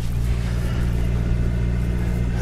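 Steady low engine drone with strong harmonic rumble, a tractor close by outdoors at a plein air painting spot, holding constant and loud throughout.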